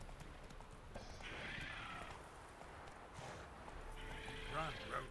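The horse Roach galloping in The Witcher 3, a quiet, steady rhythm of hoofbeats with occasional whinnies, faint and distant under game sounds and someone talking.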